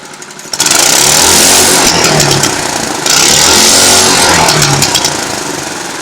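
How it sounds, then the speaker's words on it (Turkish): A pat pat moped is revved hard with its exhaust backfiring, giving two long loud bursts of close, raspy engine roar with crackling pops, alone without talk. "şimdi de sizin için egzoz patlatıyorum"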